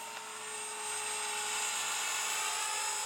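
A Blade 300X model helicopter flies with a steady high-pitched rotor and motor whine, sustained and fairly loud throughout with no talking.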